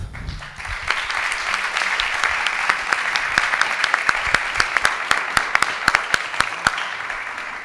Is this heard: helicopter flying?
no